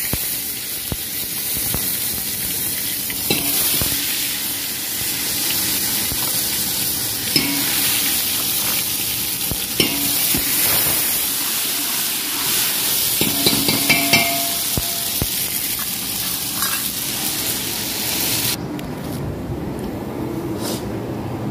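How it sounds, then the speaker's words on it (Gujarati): Dal is tempered with mustard seeds, cumin, fenugreek and ginger-chili paste, giving a loud, continuous sizzle with occasional stirring scrapes that quiets sharply near the end. "વઘારી છે આપણે રાઈ, જીરું, સાદી દાળ, એકદમ મેથી, આદુ મરચાની પેસ્ટ નાખશું."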